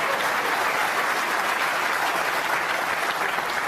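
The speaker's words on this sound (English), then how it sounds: "The extra round of applause because look where he put the cue ball" Steady, dense applause from a snooker crowd at the Crucible during the 2018 World Championship, rewarding a well-placed shot; the clapping is loud and continuous throughout with no talk over it.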